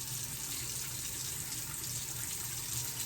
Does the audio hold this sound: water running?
yes